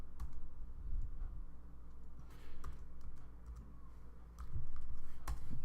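Someone types a password on a computer keyboard, producing soft, scattered key clicks in short bursts over a low steady background hum, with no talking.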